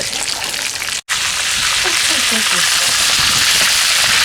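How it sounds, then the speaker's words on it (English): Fish frying in a pan of hot oil for Jamaican escovitch fish: a loud, steady, close sizzle with a brief dropout near the start, then hissing spatter and faint bubbling. "An authentic Jamaican fish fry."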